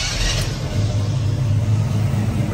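A G-body Oldsmobile Cutlass four-door idling close by, a low steady engine rumble with a faint brief click near the start, no talk.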